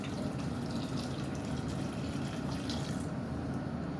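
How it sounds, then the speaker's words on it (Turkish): Hot water pouring steadily into a pot of Black Sea anchovy soup, a continuous splashing gush at moderate level with no talk over it. "Şimdi üzerine sıcak su alıyorum."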